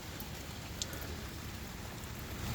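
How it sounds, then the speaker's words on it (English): Steady rain falls alone, a fine, even hiss with no other sounds over it. "Still raining, my friends."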